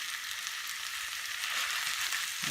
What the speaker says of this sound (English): And we're just going to stir this around a bit.